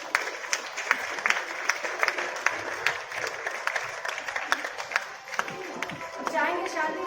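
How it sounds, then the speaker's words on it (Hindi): A large audience at a women's honour ceremony in India bursts into steady applause, with dense clapping and a murmur of crowd voices throughout that swells slightly near the end. "कला कौशल के लिए जोरदार तालियां"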